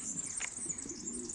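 A racing pigeon arriving home at the loft from a race, wings flapping softly with faint coos and chirps, quiet and steady against a high, constant background hiss.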